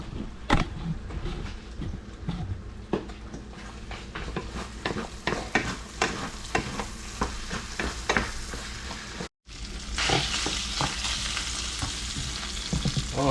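Food stirred in a frying pan during a Filipino home cooking session, with steady sizzling and repeated scraping, clattering strokes of a utensil against the pan, close and loud, with a brief drop to silence partway through.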